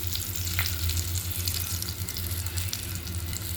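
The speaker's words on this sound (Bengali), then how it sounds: "ডিম দুইটা আমি ভেজে নিলাম সুন্দর করে" Hilsa fish roe fries in a pan with a continuous close hiss and sizzle and a low steady hum beneath, no voices.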